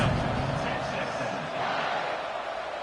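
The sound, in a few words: stadium crowd cheering in NCAA football video game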